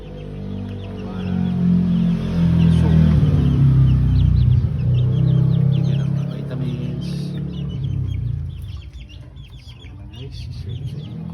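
Pet chickens clucking close by, a steady run of busy clucks and calls over a low rumbling background that fades toward the end.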